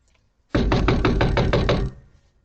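Rapid knocking on a front door, about eight firm, evenly spaced raps in one loud, close burst with no talk.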